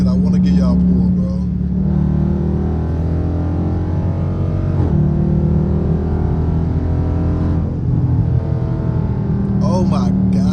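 A Dodge Charger RT pulls hard in traffic, its engine roaring loud and steady with rising, layered rumble throughout, a brief dip midway before building again, with a voice talking over parts of it.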